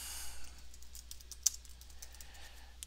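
Quiet clicks and keyboard taps at a computer in accounting software, with one sharper click standing out mid-way among light, scattered taps.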